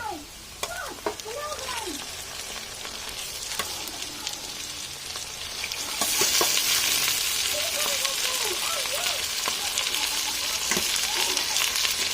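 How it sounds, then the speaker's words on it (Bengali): Meat and onions frying in a pan, a steady close sizzle and crackle throughout that grows louder and brighter halfway as the meat goes in, with faint voices in the background. "পেঁয়াজগুলো ভাজা হয়ে গেছে, দিয়ে দিচ্ছে মাংস।"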